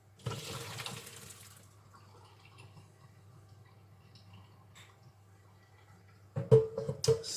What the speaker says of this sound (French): étape numéro 1, le riz. On va laisser égoutter.